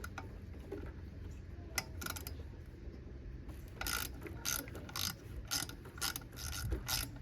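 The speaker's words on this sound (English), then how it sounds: "Quarter-inch ratchet, definitely the way to go." A quarter-inch ratchet loosens a 10mm bolt on a Toyota 3.4L 5VZ-FE V6 valve cover, giving quiet, close pawl clicks in short rhythmic runs, quicker and louder in the second half.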